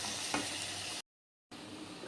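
Sliced onions fry in hot oil with a soft, steady sizzle and a faint stir, broken by a brief silent gap before the quiet frying resumes.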